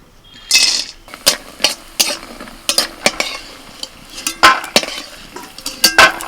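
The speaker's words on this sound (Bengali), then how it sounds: "কড়াইতে সরিষার তেল দিয়েছি আর ওর মধ্যে কিছু ডালের বড়ি ভেজে নিচ্ছি" Lentil dumplings (dal bori) frying in mustard oil in a wok, with a sizzle underneath and repeated sharp scraping and clinking of a spatula against the pan, loud and close, no talking.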